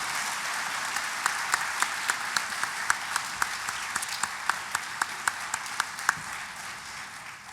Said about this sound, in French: Et honnêtement, je t'applaudis, bravo.